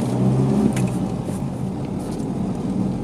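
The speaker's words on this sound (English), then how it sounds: "I'm going to move the car off." A manual car pulls away and moves off in second gear, its engine giving a steady low rumble and whir close by, with a brief rising note at the start and no talking.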